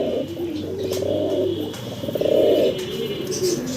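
A pigeon pair coos close by, with a few soft, rolling calls that swell to a louder one near the middle and come alone without talk.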